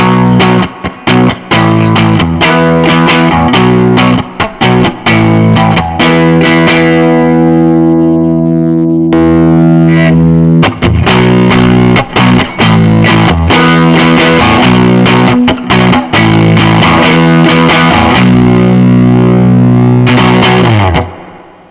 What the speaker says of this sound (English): So the Bluesbreaker's on at the moment. This is what it sounds like.